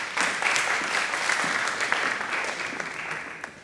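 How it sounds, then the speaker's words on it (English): Audience applause at an Africa Entrepreneurship Accelerator Summit 2023 session, a steady wash of many hands clapping throughout, fairly loud and dense with no voices over it. "A round of applause for her once again."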